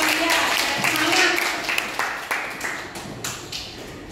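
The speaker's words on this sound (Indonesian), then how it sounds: "beri tepuk tangan Bapak Ibu buat Bu Lamria" Bapak-Ibu participants at a Merdeka curriculum teacher-training session give fairly faint applause that thins into scattered individual claps, with voices under it.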